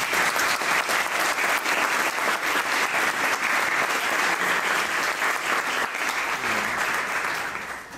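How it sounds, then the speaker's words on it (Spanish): An audience at a concert hall applauds loudly and steadily, a dense wash of clapping that holds throughout and tapers slightly at the end. "Un aplauso a Olimpia Delgado"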